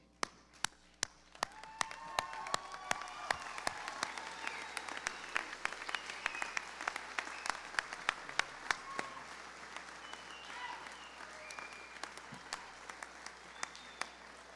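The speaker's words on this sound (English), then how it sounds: "give these young men and women a standing ovation" A scholarship night audience rises to give graduating seniors a standing ovation, a long, sustained roll of many hands clapping with sharp individual claps standing out near the microphone, fading slightly toward the end.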